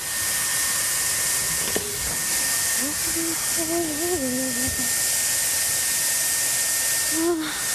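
A hair dryer runs steadily throughout with a loud, continuous airy hiss, and a voice briefly rises over it partway through.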